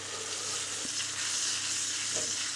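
Cod fillets fry in a pan being shaken, giving a loud, continuous bright sizzle with a couple of soft knocks as the pan moves, no voices.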